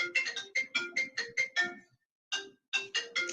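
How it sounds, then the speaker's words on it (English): A phone ringing, a repeating electronic ringtone pattern of short bright tones in quick bursts, a brief pause, then the pattern resumes, clear and close with no talking. "I can't answer the phone right now."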